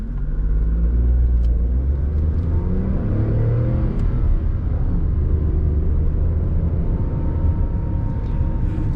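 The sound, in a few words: Tata Nexon turbo petrol engine accelerating in sports mode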